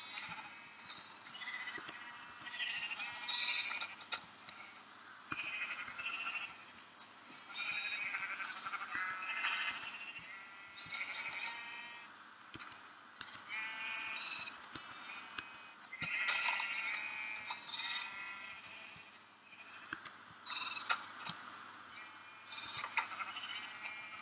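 Minecraft sheep bleat over and over in overlapping bursts, several animals calling close by with short pauses between cries.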